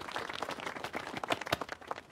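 A small group in a 1670s village gives a brief, quiet burst of uneven clapping, the scattered claps close together over a couple of seconds.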